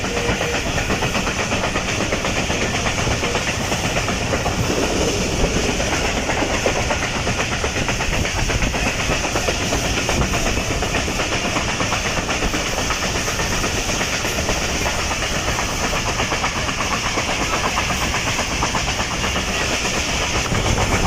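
Shah Latif Express passenger train running through mango orchards on the branch line toward Mirpur Khas, with a steady, continuous rumble and rail clatter heard up close from on board for the whole stretch.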